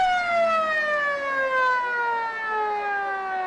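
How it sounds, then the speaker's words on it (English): A long, loud siren sounds at a 1979 Northern Territory Football League grand final at Garden Oval, marking the end of the third quarter; the steady, slowly falling tone holds alone for the whole stretch. "That's the siren to end the 3rd quarter, but Michael Graham has a shot for goal"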